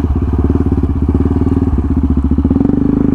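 A Yamaha MT motorcycle rides on Vesuvius, its engine giving a loud, close, rapid throbbing pulse that rises slightly in pitch toward the end.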